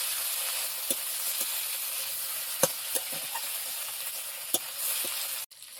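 A fish head frying in hot oil in a home kitchen, giving a steady close sizzle with a few sharp pops and stirring clicks, ending in a brief cut.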